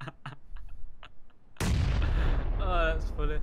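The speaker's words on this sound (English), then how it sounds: "you've just threw a grenade right in front of you" A grenade goes off with a sudden loud close blast in the video game PUBG, a sharp onset followed by a rumbling decay, after a few quiet clicks and faint talk, with a voice speaking over the aftermath.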